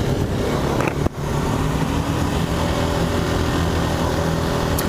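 Steady engine drone and wind noise from a 2017 KTM 390 Duke motorcycle on the move, with a brief dip near the start before the even roar resumes.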